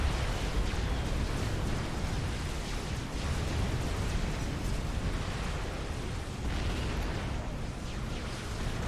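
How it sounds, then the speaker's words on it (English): A tactical missile explosion in the strategy video game Supreme Commander, heard as a continuous, dense roar of blasts and rumbling detonations filling the whole stretch at a steady, loud level. "although that's a TAC missile"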